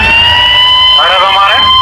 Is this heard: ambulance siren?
yes